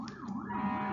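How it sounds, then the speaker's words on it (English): A wailing siren rises and falls steadily in the background, moderately loud and continuous, with no voices over it. "I'm really sorry about the sirens in the background."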